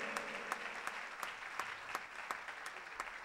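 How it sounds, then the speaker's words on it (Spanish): A church congregation at Príncipe de Paz in Port St. Lucie, Florida, applauds an associate pastor; the clapping is faint and distant, a steady patter with a few sharper claps standing out. "Denle un aplauso a él."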